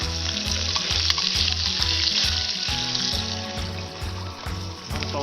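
Beef steak sizzles loudly in a pan over a camp stove at a mountain lakeside campsite, a steady frying hiss with rhythmic scraping stirs, no talk over it.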